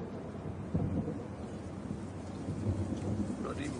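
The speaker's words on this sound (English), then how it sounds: "Bloody rain. I hate rain." Steady rain falls across open hillside country, a dense wash of drops with a few low rumbles like distant thunder rolling under it, constant and fairly close throughout with no voices.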